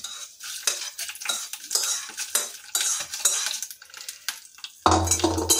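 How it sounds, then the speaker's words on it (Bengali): A spoon stirs and mashes tempering into curd rice in a bowl, close repeated scraping and clinking strokes, followed by a short burst of sizzling. "এখন আমরা 40 মিনিট ধরে ম্যারিনেট করা দই ভাতের মধ্যে ফোড়নটা যোগ করে দেব।"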